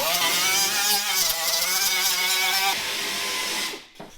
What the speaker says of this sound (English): So what I'm doing now is I'm just grinding everything up